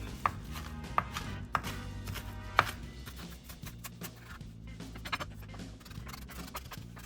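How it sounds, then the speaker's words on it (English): Fresh parsley is chopped finely with a knife on a board, giving a handful of sharp, irregular taps over a steady background of music. "We're gonna chop that up pretty fine."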